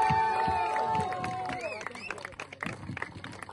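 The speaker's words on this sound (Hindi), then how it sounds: "बहुत ज्यादा ताली होगी बहुत ज्यादा ताली" A crowd at an influencer cricket league event in Indore applauds and cheers, dense clapping mixed with crowd noise and music-like tones. The applause is loud at first and thins out over a few seconds.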